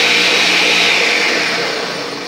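A loud, steady mechanical whir of a juicer motor running continuously while juicing for a smoothie, with a slight drop in level near the end.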